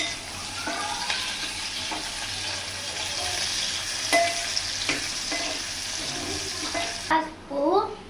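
A beans curry sizzling and frying in a pan while it is stirred, with a steady crackle, faint spoon scrapes at intervals, and a few clinks near the end.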